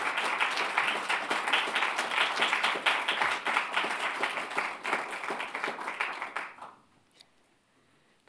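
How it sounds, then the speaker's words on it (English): An audience at a 2019 social justice awards ceremony claps steadily for several seconds, a dense, fairly close round of applause that thins out and fades near the end. "Please join me in a round of applause for Bruce"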